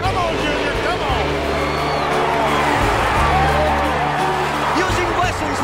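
A large grandstand crowd roars and cheers continuously at a Daytona stock car race as Dale Earnhardt Jr. takes the lead, with engine drone and dense crowd noise throughout.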